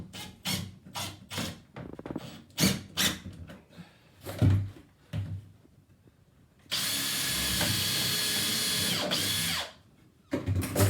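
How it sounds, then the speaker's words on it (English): A series of short clicks and knocks gives way to a long, steady whir of a power drill driving a screw close up, then more taps after it stops. "I'm drilling in"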